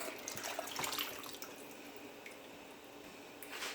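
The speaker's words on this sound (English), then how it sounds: "now I'm gonna add my Grace coconut milk" Grace coconut milk is poured into a pot of Jamaican stew peas with salt beef, producing a faint, close liquid splashing and dripping that trails off into soft bubbling, with no voices.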